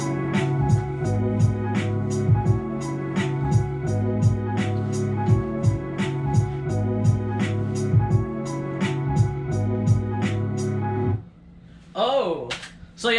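A full boom bap hip-hop beat plays with all parts together: crisp, regular drum hits over a looping melodic layer at an even level, then the music stops and a voice speaks briefly.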